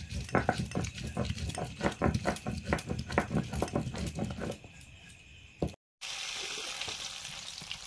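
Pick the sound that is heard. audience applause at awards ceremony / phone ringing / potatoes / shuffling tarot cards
potatoes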